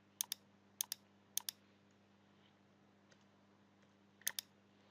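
Keys tapped on a computer keyboard while working in SketchUp: a few quick double clicks spaced out, then a pause and another pair, crisp and close over a quiet background hum.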